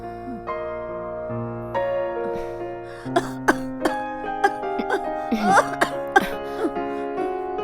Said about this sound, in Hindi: खांसी नहीं रुक रही है